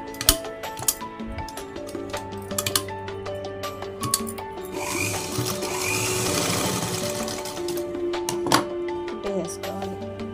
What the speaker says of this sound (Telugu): ఇలా మడుచుకున్నాక దీని మధ్యన చిన్న కుట్టు వేసుకోవాలి